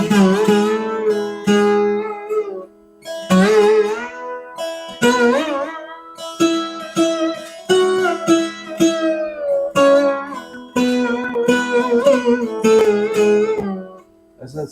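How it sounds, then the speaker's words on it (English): A double-stringed slide instrument with pairs of strings plucked together, ringing in bright sliding melodic phrases with short pauses between them, fairly loud and close throughout. "It's a double string instrument."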